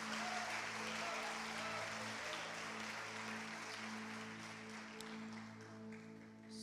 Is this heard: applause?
yes